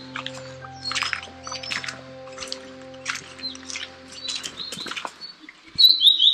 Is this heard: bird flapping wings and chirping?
yes